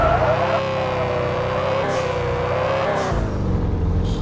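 A car drifts in an online Saudi car game, a loud, continuous engine drone with slight pitch swells, close and alone.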